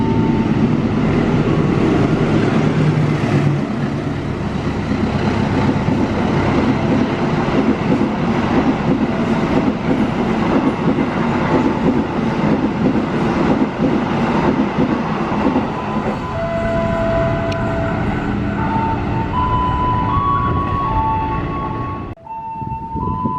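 Passenger train hauled by locomotive 206, thirteen coaches long, rumbling past steadily and loudly with continuous wheel and engine noise, a horn-like tone sounding near the end before it fades.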